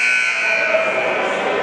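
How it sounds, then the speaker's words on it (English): A loud, sustained electronic buzzer sounding at a high school basketball game between Morris Hills and Mendham, one continuous blast ringing through the gym over crowd noise. "at the buzzer."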